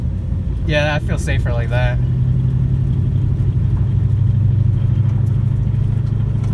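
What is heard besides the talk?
cammed 2001 Mustang GT engine driving in snow, third gear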